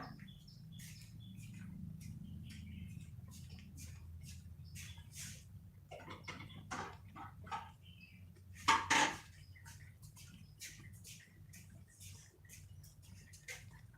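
Pork with mustard greens in the northern Thai dish phak kat jo is ladled from a pot, giving scattered utensil scrapes and clinks with one louder clatter, over a low steady background hum.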